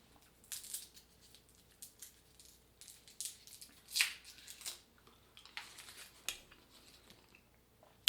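Soft crinkling and crackling of a cough drop wrapper being unwrapped close by, a series of brief rustling bursts with one sharper crackle midway, in a quiet room with no talking.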